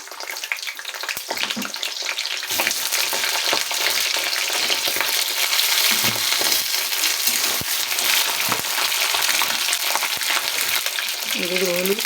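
Pieces of pointed gourd drop into hot oil in a wok, bursting into loud, steady sizzling and crackling that carries on close up, while a voice speaks briefly near the end.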